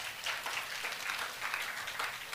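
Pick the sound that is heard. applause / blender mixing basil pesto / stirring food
applause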